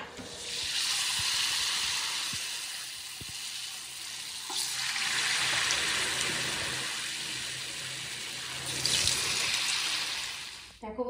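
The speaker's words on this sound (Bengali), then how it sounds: "আর এদিকে এই যে পকোড়াটা ভেজে নেব।" Cauliflower pakoras frying in hot oil, a loud continuous bubbling sizzle that swells and eases in waves, with a few faint knocks nearby.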